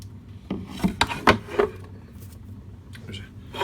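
Short scraping strokes of hand sanding on a hard fiberglass side panel of a Norton Commando 750 motorcycle, a handful of rasping passes clustered together, then quieter scuffs with faint background noise.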